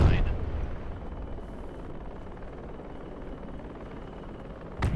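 An enemy helicopter lands and drops troops in the military game Project Reality, heard as a steady distant rotor drone, with a louder burst at the start and another near the end.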